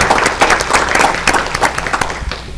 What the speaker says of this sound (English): Let's give Nancy a round of applause for all your hard effort and work